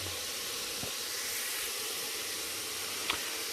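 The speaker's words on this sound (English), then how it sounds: "Let it cook up in this oil for about 5 minutes." Onions, pepper and garlic fry in oil in a pan. A steady, even hiss of sizzling carries on throughout, with a couple of faint clicks and no talking.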